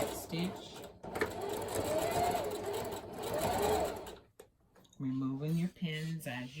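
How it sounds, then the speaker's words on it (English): A sewing machine stitches fabric for a wreath, a close, steady whirring run that pauses briefly, then a person speaks over the quieter background. "Then you just want to start out sewing, and you want to back stitch."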